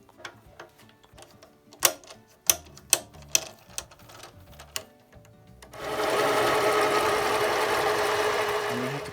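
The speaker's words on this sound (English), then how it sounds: "So I'll go ahead and turn down the rod to accept the hole." A metal lathe with a four-jaw chuck turns down a metal rod, starting with a series of sharp clanks and clicks during setup before the machine settles into a steady, loud whirring drone.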